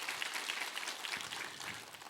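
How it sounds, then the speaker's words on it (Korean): A church congregation applauding after a worship song, a steady wash of clapping that is fairly faint and even throughout. "함께 힘찬 격려의 박수 한번 부탁합니다."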